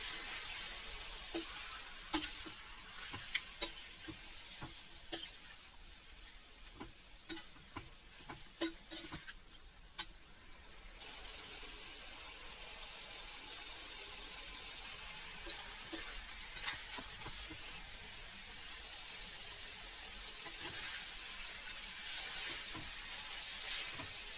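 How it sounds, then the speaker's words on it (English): Hyderabadi chicken dry curry frying on high flame, with a steady sizzle and irregular scraping, clinking stirring strokes that come quick in the first half and then ease into a continuous hiss. The sound is close but fairly quiet, with no talk. "Mix it properly for 15 minutes on high flame."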